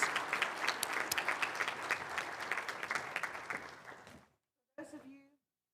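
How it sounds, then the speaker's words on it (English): An audience at a College of Nursing stethoscope ceremony applauds the students, a loud, dense burst of clapping that fades out after about four seconds, followed by a pause and a brief voice. "Let's give our second big round of applause to these outstanding students."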